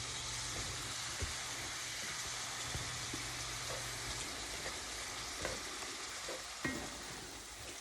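Hamburger meat sizzles and spits in a large cast iron pan, a steady bright frying hiss with occasional scraping stir strokes and small pops, close up and without talk.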